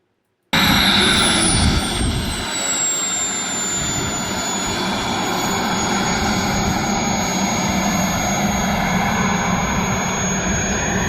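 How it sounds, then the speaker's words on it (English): A giant RC jet's turbine engine spooling up at an airfield: a sudden loud, close roar with a high whine that glides downward and then holds steady, continuous broadband rush throughout, no talking. "I'm going to spool up to the runway"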